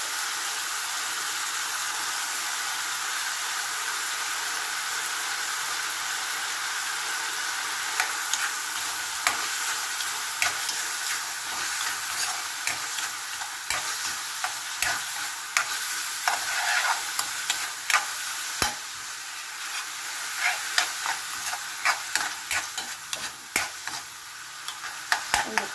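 Green beans and ground pork stir-fry in a wok with a steady, loud sizzle, while a spatula scrapes and clicks against the metal in quickening taps toward the end.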